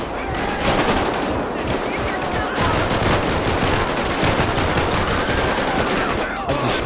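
Loud, sustained automatic gunfire in the police game LSPDFR during a DEA patrol in Atlanta, a dense rattling barrage that continues nearly unbroken with only a short lull.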